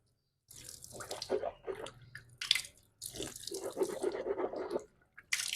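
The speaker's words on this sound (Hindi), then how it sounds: "3 दफ़ा आपने कुल्ली करनी है।" Water swishes and splashes in the mouth during a rinse in wudu ablution, with a running tap and drips in the background, done in several close, uneven bursts with short pauses.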